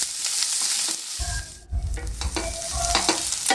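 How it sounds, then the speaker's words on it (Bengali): Ginger, garlic, onion and green chilli stir-fry in hot oil for an eggplant masala curry, a loud crackling sizzle with scraping stirring strokes and a brief dip before the frying surges back. "খুব ভালো করে এটা আমি নেড়ে চেড়ে ভেজে নেব।"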